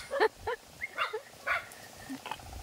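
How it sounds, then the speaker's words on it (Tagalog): Dogs bark on a rural farm in the Philippine countryside: about five short, sharp barks at irregular intervals, moderately near, over quiet background. "Yan ang aming mga aso."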